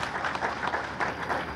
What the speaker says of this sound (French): il faut applaudir le ministre Romuald Wadagni